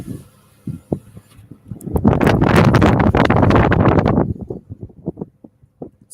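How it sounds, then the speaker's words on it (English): Wind buffeting in through a rolled-down car window in Lancaster on a hot windy day, a loud roaring gust of about two seconds rising and falling, with scattered thumps and rustles before and after. "So you can pretty much hear the wind"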